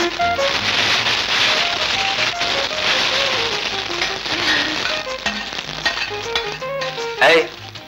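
Tempering spices crackle in hot oil in a household kitchen, with a loud, dense sizzle that slowly thins out before a sudden sharp burst of spitting near the end.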